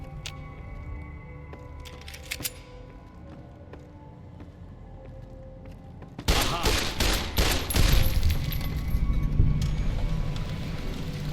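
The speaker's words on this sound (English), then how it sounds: "didn't you hear the gunfire, bro?" In the video game Fallout: New Vegas, after a quiet stretch, a burst of rapid gunfire erupts and continues in dense crackling volleys, loud and sustained.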